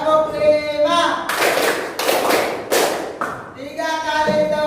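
A classroom group claps hands in unison in a rhythmic counted pattern, with several loud bursts of clapping close by between spoken and sung counting.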